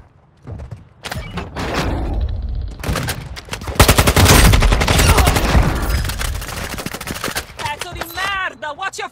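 Rapid bursts of automatic gunfire in the mobile video game Warzone Mobile, loud and close, with dense fusillades peaking midway, interspersed with thuds, then giving way to tonal effects at the end.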